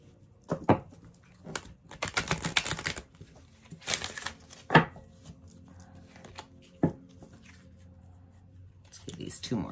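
Close, crisp riffling and flicking of flexible oracle cards being shuffled in bursts, with a few sharp snaps and a voice talking softly in places.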